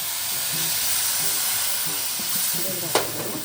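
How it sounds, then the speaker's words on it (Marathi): Milk poured into roasted semolina in a hot pan, a loud steady sizzle and hiss as it is stirred, with a sharp clink near the end. "आता आपण याच्यामध्ये हे दूध घालून घेऊया"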